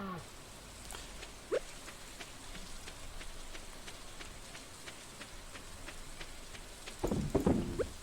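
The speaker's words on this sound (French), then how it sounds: "aujourd'hui il pleut, j'ai pas besoin d'arroser les plantes." Steady rain patters softly and continuously in the farming video game Stardew Valley, with a brief louder burst of activity near the end.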